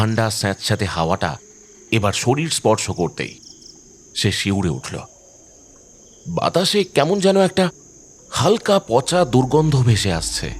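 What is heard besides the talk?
crickets chirping at night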